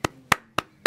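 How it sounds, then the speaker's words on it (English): Sharp, separate hand claps ring out one after another at a quick, steady pace, close and crisp, with nothing else behind them. "I want to give a special hand of applause to Shane Ashley"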